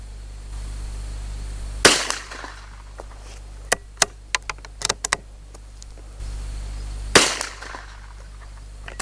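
A rifle fitted with a Schmidt & Bender Zenith 1.5-6x42mm scope fires on a range. Two loud, sharp reports stand several seconds apart, with fainter clicks and knocks between them.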